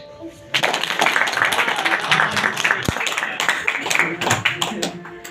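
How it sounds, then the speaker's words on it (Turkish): Applause from an audience right after a talk about a Suez Canal opening painting, a dense wash of many hands clapping that starts abruptly and holds steady and fairly loud to the end. "Alkış."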